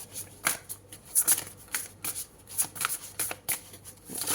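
Tarot cards being handled and shuffled, a rapid series of papery flicks and slides in uneven bursts, close and fairly loud, with no talk.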